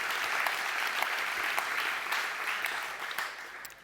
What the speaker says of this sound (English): So can you all join me in giving a round of applause to Matt, Natalie, Ale, and Donna